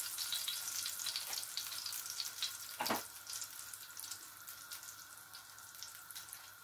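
Potato slices lightly frying in oil for aloo ki varkiyan, a soft, steady sizzle with faint scraping and a single louder clatter near the middle, heard close with no voices.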